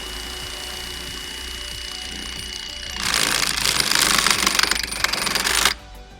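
A self-piercing rivet gun, an OEM-approved SPR tool, sets a rivet with a loud, dense hydraulic-pneumatic burst lasting about three seconds over a steady machine hum, then cuts off abruptly.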